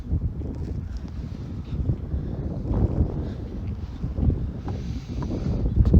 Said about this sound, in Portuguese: E o ventão tá forte, viu?